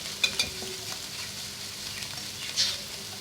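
Eggs are stirred quickly in a pan to break them into small pieces for Chinese fried rice, giving a soft continuous sizzle with a few brief scraping clinks, faint and without talk.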